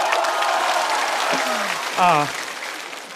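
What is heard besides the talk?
audience applause at a stand-up comedy show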